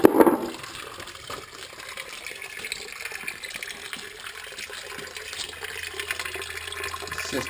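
Water pouring and gushing into a basement sump pit fed by a perimeter channel drain, a steady close trickling splash after an initial louder surge.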